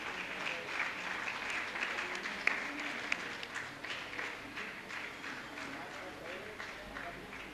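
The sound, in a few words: audience applause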